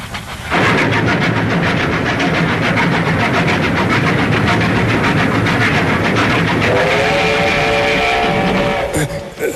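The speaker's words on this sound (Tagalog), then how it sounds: "Nariyan na po ang tren!" A train rumbles in loudly with a steady rhythmic clatter of wheels on rails, close by, and a tonal horn or brake squeal rising near the end.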